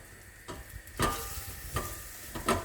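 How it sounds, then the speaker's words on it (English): Onions and garlic sizzle in a pot for minestrone soup while a spoon stirs, scraping and clunking against the pot in four or so distinct strokes over a constant low frying hiss. "And just give that a stir."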